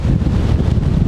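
Wind gusting hard into the face while hiking across the open Hardangervidda plateau, a steady loud roar with buffeting rumble against the microphone and no voices.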